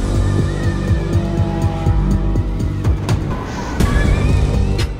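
An Audi race car at the start of the Dakar Rally 2024 revs hard up close, its engine note climbing in repeated surges with sharp clicks and knocks. The sound is loud and continuous and has no voices.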